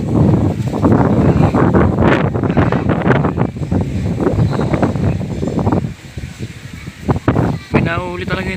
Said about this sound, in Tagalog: Lakas pa ng hangin po.